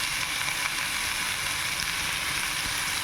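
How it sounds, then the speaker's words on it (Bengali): Potatoes fry in hot oil seasoned with salt and turmeric, giving a steady, close, even sizzle that runs unbroken with no voices over it. "এখানে আলুটা ভেজে নেওয়া হচ্ছে।"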